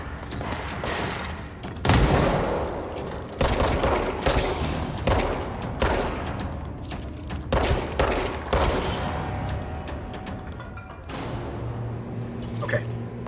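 Grenade explosions and bursts of gunfire from the video game Control hit in a rapid, irregular series of loud blasts and thuds, with a voice talking over parts of the action.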